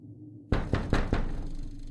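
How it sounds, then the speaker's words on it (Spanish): Four firm knocks land on a changing-room door in a hotel, spaced evenly and close by, each a dull thud against a quiet background, with no one speaking. "al ratito tocan la puerta del vestuario"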